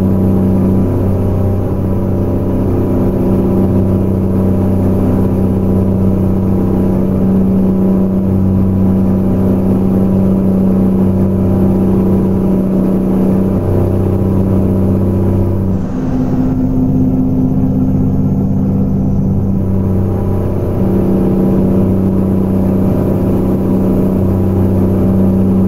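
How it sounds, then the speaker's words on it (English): A truck engine in American Truck Simulator runs loud and steady for the whole stretch, a deep rumbling drone that dips briefly midway and then holds, with no voices. "That is exactly the engine I am running."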